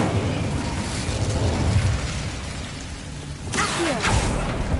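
Incendio fire spell cast in the video game Hogwarts Legacy, with a burst and whooshing flare near the end over steady game ambience.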